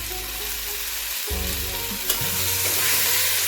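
A green chili fries in hot oil with loud, close crackling and sizzling that briefly drops out and then resumes, with light stirring scrapes over the continuous spitting.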